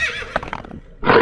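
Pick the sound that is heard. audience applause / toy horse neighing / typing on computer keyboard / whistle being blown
toy horse neighing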